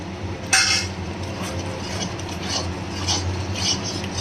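A spice paste of turmeric, chili powder and salt is stirred in a pan for a country chicken curry, with soft scraping and occasional clinks of the spoon against metal over a low background hiss.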